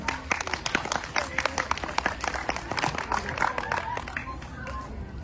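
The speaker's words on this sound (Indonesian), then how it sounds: "Ini tepuk tangan dados." A group claps at a primary school event for Balinese language month in Pejeng, a dense patter of quick hand claps that runs steadily throughout at moderate volume.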